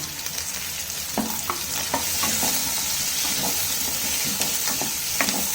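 Garlic, ginger, cinnamon and cloves frying in oil in a pan, giving a loud, even sizzle with a few stirring scrapes near the start, close up and with no voices.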